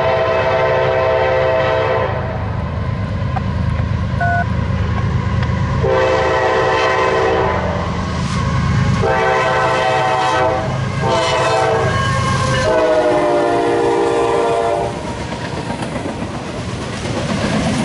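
Kansas City Southern freight train passing close by, its horn sounding in several long blasts over the heavy rumble and clatter of the rolling cars.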